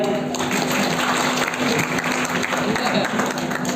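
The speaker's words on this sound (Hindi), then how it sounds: "वो पीछे वाला मन पर एक बार जोरदार ताली बजाओ भैया।" Loud, steady applause from the audience at a kavi sammelan poetry gathering in Kanker, a dense wash of many hands clapping close and continuous, with a faint hum underneath.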